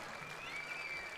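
An audience at a live jazz concert applauds, a dense, steady patter of many hands, fairly distant.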